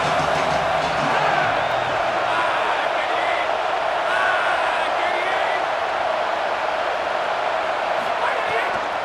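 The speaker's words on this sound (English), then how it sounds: "Man, this crowd really affecting the football game." A home crowd roars steadily in EA Sports College Football 27 during a football game, a dense continuous wash of stadium noise with commentary-style talk over it throughout.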